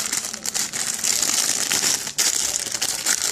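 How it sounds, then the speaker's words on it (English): A squishy toy squeezed in the hands gives close, loud crumpling and crinkling, continuous with a few brief dips, and no voice over it. "Can you hear the crumpling noise, right?"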